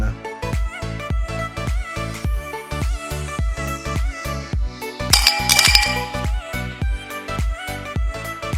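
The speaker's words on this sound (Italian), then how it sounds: "dovrete colmare il bicchiere highball di ghiaccio" Ice cubes fill a highball glass for a dark and stormy cocktail, a rapid series of bright clinks and clatters close up, one after another, with a denser rattling burst midway and no talk.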